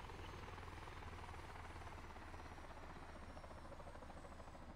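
Steady, close helicopter rotor and engine drone in a game, a continuous low thumping beat with broad whine above, sustained without break and with no voices, during an abrupt hard landing after trouble with the tail rotor.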